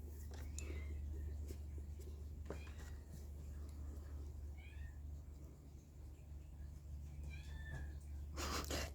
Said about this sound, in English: That is a kitten in the background